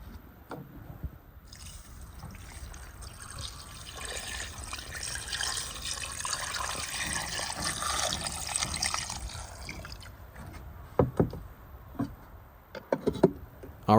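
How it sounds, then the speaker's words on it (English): Water pours steadily into a cooking pot of Azerbaijani lamb stew seasoned with bay leaves and salt, a continuous liquid rush for about ten seconds, then a few scattered drips and clinks as the stream stops. "pour in some water"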